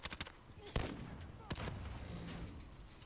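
A grenade explodes in a video game firefight, one of several sharp blasts and gunshots ringing out close and loud over a few seconds, with a voice talking faintly in the mix.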